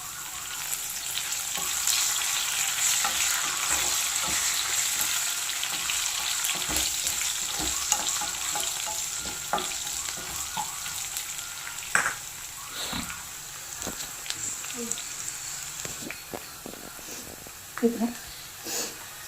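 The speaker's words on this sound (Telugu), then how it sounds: "కరివేపాకు వేసుకుందాం" Curry leaves crackle and sizzle in hot oil, a steady frying hiss with scattered sharp pops and a few utensil clinks; a voice talks briefly over it.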